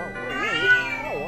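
Cat meowing in The Legend of Zelda: Ocarina of Time randomizer, a short drawn-out meow with rising and falling pitch, heard clearly and alone.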